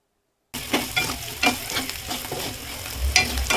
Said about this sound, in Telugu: ఆయిల్ వేడెక్కిన తర్వాత మనం ఫ్రిడ్జ్లో పెట్టేసుకున్న పన్నీర్ ముక్కల్ని అయితే వేసుకొని ఫ్రై చేసుకోవాలి